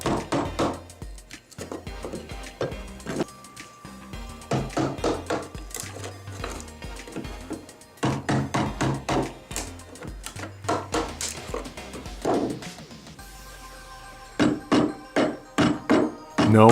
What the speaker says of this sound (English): you're going to take the hammer and you're going to hit the chisel so it pushes up the carpet tack